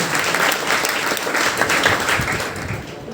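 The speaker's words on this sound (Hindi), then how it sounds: "भाई, ताली बजाने का मन किया करो तो बजा दिया करो" An audience at a seminar program bursts into sustained applause, a dense, loud roll of many hands clapping without pause.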